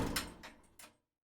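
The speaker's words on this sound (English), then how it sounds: "and the door shuts." A door shuts in quick succession of knocks and a closing thud, a few close sharp bumps over about a second, followed by silence.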